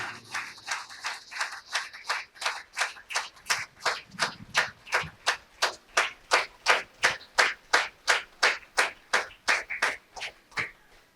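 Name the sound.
audience applause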